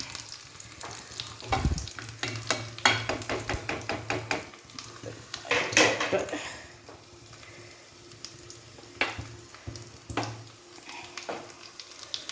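A hot tempering spooned into a pan of beef and plantain curry crackles and sizzles in bursts, with a ladle knocking and stirring against the pan in quick repeated taps.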